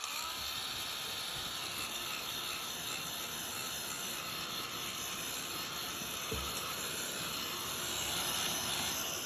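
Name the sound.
heat gun drying gesso on a card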